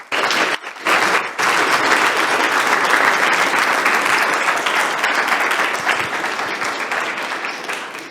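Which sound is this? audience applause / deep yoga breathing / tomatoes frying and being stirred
audience applause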